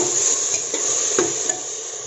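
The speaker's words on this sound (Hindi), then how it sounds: "इसके बाद चने की दाल, इसको एक बार मिक्स कर दी।" Chana dal stirred in a cooking pot for dal khichdi, a soft continuous rustle with a few light scrapes and taps of the spoon, close and alone.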